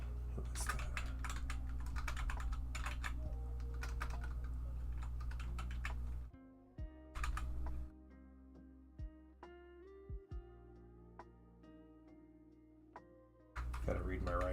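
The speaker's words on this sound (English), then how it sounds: "Really slow typing, so give me a second." Keys clatter on a computer keyboard in slow, uneven bursts during a live stream, with sharp separate clicks in quieter gaps between stretches of louder background sound and a person talking.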